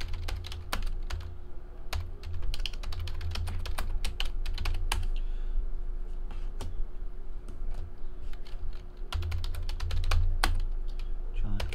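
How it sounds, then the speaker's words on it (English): Rapid, irregular clicking of a computer keyboard as names are typed in, heard up close in steady bursts with brief pauses over a low background hum. "you're just stuck watching me type in names in here"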